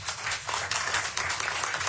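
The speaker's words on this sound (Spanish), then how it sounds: "Un aplauso, por favor." Applause for a guest speaker at a seminar, a short burst of steady, dense clapping from an audience, moderately loud and without talk.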